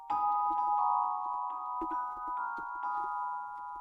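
A plain, bell-like celesta synth tone sustains a soft chord, with faint clicks and no voices.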